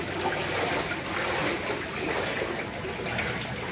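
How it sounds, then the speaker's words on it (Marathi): Floodwater rushes strongly past a broken wall after heavy monsoon rain in a riverside village area of Kharoshi-Durshet. It makes a steady, dense roar with no let-up and no voices. "भरपूर असा फ्लो आहे."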